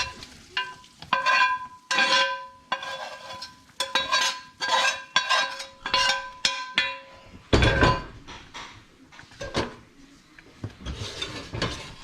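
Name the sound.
sausage and fat stirred into cooking gravy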